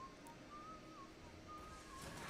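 Game character Cap whistles a tune, a thin wavering melody of a few sustained notes, faint and airy against low background noise.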